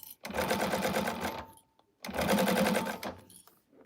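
A sewing machine stitches straps in two quick bursts of rapid mechanical whirring, close and fairly loud, separated by a brief pause.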